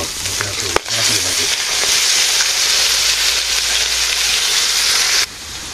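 Potatoes fry in hot oil in a pan in a Bangladeshi village kitchen, giving a loud, constant sizzling hiss that starts with a stir clatter and runs steadily before dropping off near the end.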